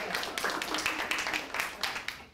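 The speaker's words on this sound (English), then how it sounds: "Give him a round of applause." A short round of applause from a small audience at a health talk, uneven clapping with a few louder individual claps standing out.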